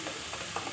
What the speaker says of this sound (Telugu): ఇప్పుడు కారం తగినంత కారం వేస్తున్నానండి